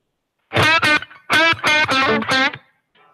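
Electric guitar through a Line 6 HX Stomp with spring reverb after the amp, giving a drippy spring tone; a few plucked phrases in quick bursts, each tailing off with a short splashy decay, loud and close.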